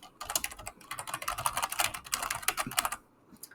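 Rapid typing on a computer keyboard while entering a button label in SharePoint, a dense run of close, crisp key clicks that stops abruptly near the end.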